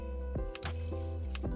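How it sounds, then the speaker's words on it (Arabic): Peeled potatoes are washed in water, giving close, wet squishing and sloshing sounds in a few quick splashes with brief drips between them. "بعد ما قشرت البطاطا بدي اغسلها قبل ما اترمها"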